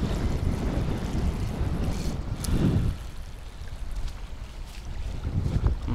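Strong gusts of wind at a waterside fishing spot where asp are being fished for, a continuous low rumbling roar that swells in a heavier gust midway, then eases slightly before rising again.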